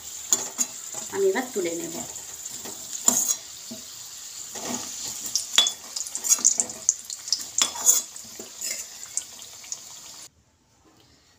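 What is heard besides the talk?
potatoes frying in oil for mutton biryani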